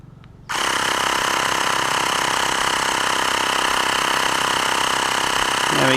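A Xiaomi Mi portable air pump compressor starts abruptly after a brief quiet moment and runs loud and close with a steady, buzzing mechanical drone that holds level to the end.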